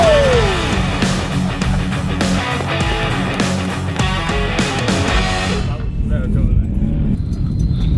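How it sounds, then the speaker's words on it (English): A car driven at a big drift angle roars steadily for several seconds, its engine loud and close before it drops away near the end. "it's so much fun to drive this car"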